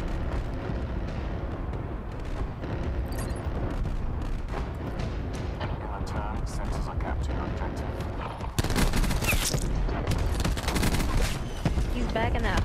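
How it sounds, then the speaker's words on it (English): Sustained gunfire in a shooter video game, a dense continuous barrage of overlapping shots that grows louder and harsher toward the end, with voices talking over the shooting. "They're still shooting bodies, bro."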